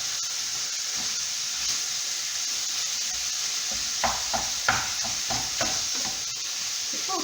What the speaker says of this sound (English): there will be no big chunks of ground beef once you fry it